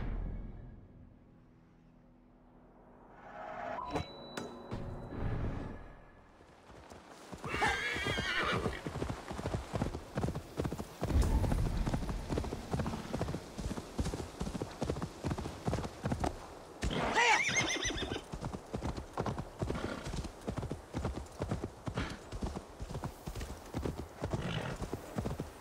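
Horse hooves clip-clopping in Assassin's Creed Valhalla, a steady trotting rhythm of hoofbeats after a loud whinny, with ambient game sound in the background.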